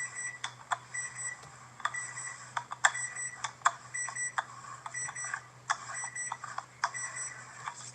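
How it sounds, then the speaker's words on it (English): Kitchen timer beeping in a home kitchen while beignets are being made, with a steady run of short electronic beeps in clusters over a low background hum. "That's my timer."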